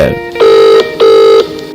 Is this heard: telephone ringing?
yes